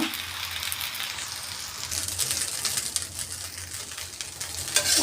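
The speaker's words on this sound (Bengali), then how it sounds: "আমি ভালো করে এখন একটু নাড়াচাড়া করে নেব" Fried rice with soy sauce and tomato sauce sizzles in a pan while being stirred, a steady hiss with scraping and clinking from the utensil, fairly soft and close.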